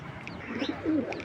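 Racing pigeons in a loft coo close by, one soft, low, throaty coo rising out of quiet background hum.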